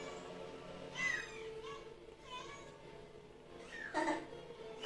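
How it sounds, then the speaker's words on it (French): Several kittens and a mother cat meow around a room during a Yu-Gi-Oh card game session, with thin high cries coming in scattered bursts over steady background noise. "désolé, ça miaule de partout."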